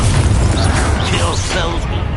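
A Bombarda blasting spell erupts in Hogwarts Legacy, a loud, heavy boom and crash filling the clip, with a voice shouting over the blast.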